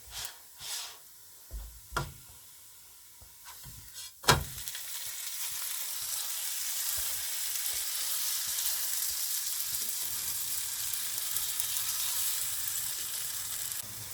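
Makki roti, a cornflour flatbread, being turned and cooked with butter on a hot griddle over high to medium flame. A few sharp knocks and clatters come first, then a continuous close sizzle with no voices.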